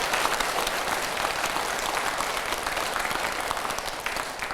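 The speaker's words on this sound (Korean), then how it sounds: "총무원장 스님께도 큰 박수 부탁드립니다." An audience at a Buddhist meditation dharma talk breaks into loud, continuous, full-room applause for the head monk, sustained evenly from start to finish.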